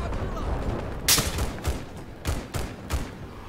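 Gunfire from a sniper fight in the video game Battlefield 4: a loud sharp crack, then several thumping shots spaced about half a second apart, heard over steady battlefield background noise.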